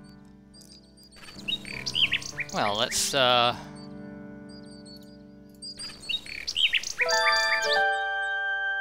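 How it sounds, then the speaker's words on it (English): Nightingale perched on a high tree branch in the adventure game King's Quest VI, its chirping song bright and melodic in two bursts, mixed with game music and someone speaking over it. "A nightingale perches on a high branch of the tree. She sings the most beautiful song Alexander has ever heard."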